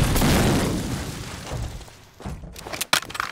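Grenade blast in a competitive first-person shooter match: a loud booming explosion that swells at the start and decays over a couple of seconds, followed by a few sharp pops and clatters near the end.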